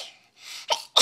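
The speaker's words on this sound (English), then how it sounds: "I'm gonna sneeze." A sneeze breaks out at close range, a soft indrawn breath building into two sharp, loud bursts within about a second, with no talking.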